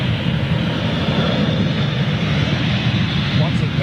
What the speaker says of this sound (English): Once it picks up around about 80 knots, it'll switch to the auto systems.